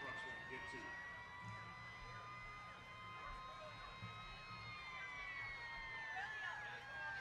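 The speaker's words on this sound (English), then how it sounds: "I hear those sirens off in the distance." Faint fire engine sirens wail far off at a firefighters' parade, their tones sliding slowly, under a low murmur of background noise.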